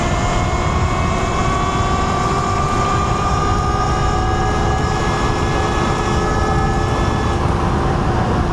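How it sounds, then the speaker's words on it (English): A private plane flies low over the area near an airport, a steady loud engine drone with a rising whine that holds throughout and no talking. "We keep seeing private planes and shuttles coming out of"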